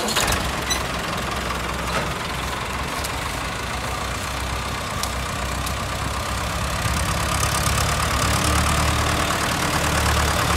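A loaded tractor in a sugarcane field, hauling about 70 quintals of cane, idles with a dense, steady diesel chug and knock close by, holding an even level throughout with no talk over it.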